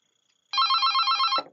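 An analog telephone on an Avaya IP Office system rings after an extension is dialed, giving one steady electronic trill of rapid warbling pulses that lasts about a second, close and clear, then cuts off.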